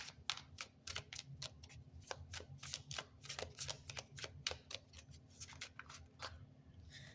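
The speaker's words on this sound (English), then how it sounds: "I'm being guided to pull another card from this tarot deck" A tarot card deck is shuffled by hand close up, a rapid series of crisp riffling snaps and flicks in an irregular rhythm, fairly quiet with no talk.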